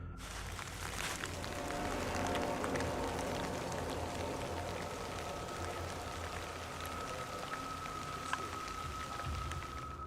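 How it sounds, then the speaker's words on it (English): Steady rain falling, a dense hiss of drops spattering on surfaces, continuous and fairly close with no voices. "And as luck would have it, it starts to rain."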